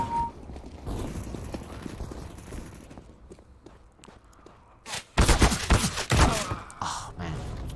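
Counter-Strike: Global Offensive gameplay with a burst of loud, close gunfire after footsteps and mechanical clicks, the shots rapid and dense near the end, no talk over them.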